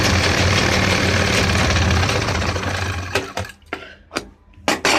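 A sewing machine stitches along the margin of a trouser leg with a steady, fast mechanical whir for about three seconds, then stops, leaving a few scattered clicks and handling knocks.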